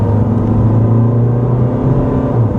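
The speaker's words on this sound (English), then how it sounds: "Now that we're moving, let's see if you guys can hear the diesel." A 2014 Chevy Cruze turbo diesel four-cylinder engine under full throttle heard from inside the moving car, a steady low droning hum and road rumble with no talk.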